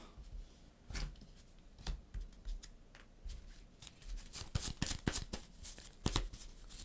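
Playing cards are drawn and handled during a solo game of the Imperium board game, close, quiet papery slides and sharp flicks arriving in irregular bursts, busier toward the end, over a soft room background.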